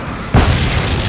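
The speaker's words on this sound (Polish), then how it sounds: "Udało mi się wysadzić całą stację benzynową." A gas station blows up in the Alan Wake video game: after a brief quiet lead-in, a single loud, deep boom bursts in and rolls on as a sustained rumbling roar to the end.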